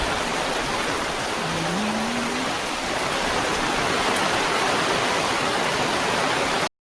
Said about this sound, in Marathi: मुसळधार पाऊस लागता